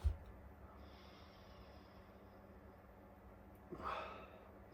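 A quiet close-up sniff of a Kronenbourg Blanc beer near the end, a short nasal inhale after a faint bump, against a soft room background.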